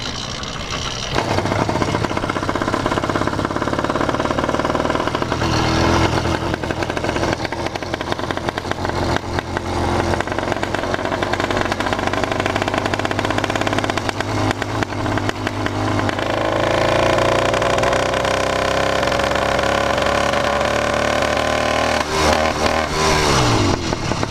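An 80cc motorized bicycle engine held at full throttle drones loudly and steadily, with a rough, knocking odd noise running through it; the pitch climbs and wavers near the end as the engine surges, and no one speaks.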